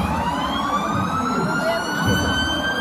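A fire truck siren wails steadily with rising and falling tones over constant traffic rumble at a Seventh of September parade, fairly close and loud throughout.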